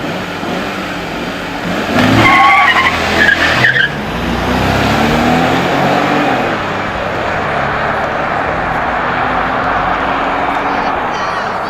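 Drag racing cars launch at a race event in Drohobych, with loud engines revving and tires squealing briefly near the start, then a sustained roar of engines pulling away that fades gradually into the distance.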